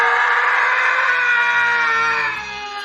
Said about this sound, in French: on va aussi faire un bon hurlement de grosse colère, super long, super fort